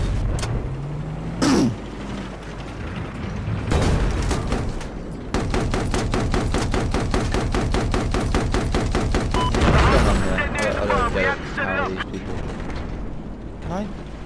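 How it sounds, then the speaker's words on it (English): Tank cannon and gunfire in an online war video game: a few heavy booming shots, then a long rapid rattling volley, loud and close, with bursts of clatter afterwards. "You know how to actually fire the fucking tank."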